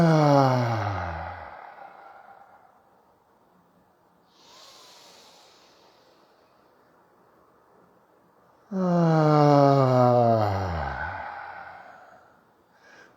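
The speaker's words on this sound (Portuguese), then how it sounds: "E vai sonorizando a saída do ar a cada respiração que você fizer." Long voiced exhalations, sighing breaths pushed out audibly during a guided breathing exercise, two strong breaths with a quieter one between them and pauses of silence.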